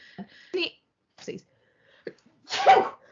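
A few brief, quiet bits of speech, then one sharp, loud sneeze bursts out close by near the end.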